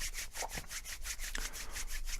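Hands rubbed briskly together during a self-massage meditation, a steady close-up swishing friction in regular back-and-forth strokes, about ten even passes with no talking.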